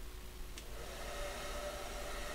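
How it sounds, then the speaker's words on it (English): A hair dryer in the video game Broken Sword 3 blows steadily on a wig, a continuous even whirring drone with a faint high whine that holds for the whole stretch, no voices over it. "The hairdryer was perfect."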